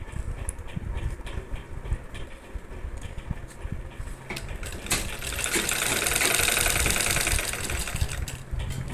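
A sewing machine stitches elastic onto a saree belt, its motor running in a steady rapid whir that grows louder and busier partway through, close and continuous with no talk.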